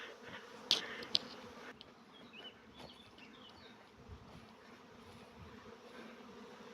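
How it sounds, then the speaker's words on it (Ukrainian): A first honeybee swarm, freshly shaken into a makeshift box hive, hums in a steady, dense drone throughout, with a couple of sharp knocks near the start. "Ось мій перший рій."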